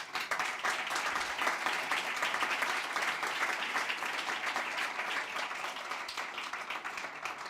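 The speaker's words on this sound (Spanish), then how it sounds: "Por eso les agradezco ese aplauso a Pepe." Sustained, dense audience applause at a book-platform's tenth-anniversary event, steady and loud throughout with no talk over it.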